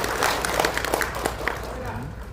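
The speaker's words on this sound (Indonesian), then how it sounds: "Aplaus buat PJS." Applause from the audience at the third national congress of PJS in Jakarta, a steady wash of clapping throughout, with talking in the room mixed in.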